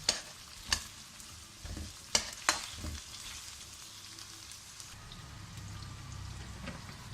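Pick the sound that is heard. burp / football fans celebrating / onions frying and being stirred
onions frying and being stirred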